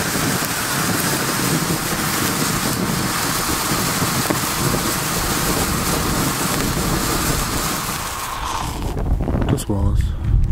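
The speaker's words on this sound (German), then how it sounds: "Leider ein bisschen windig heute." Steady roaring wind buffets a microphone throughout at a colour fountain show, a broad rushing noise that drops briefly near the end as a voice comes through.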